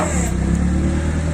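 A 1.5-tonne forklift's engine runs steadily up close for a brief moment while the forks are raised, giving a constant mid-pitched drone.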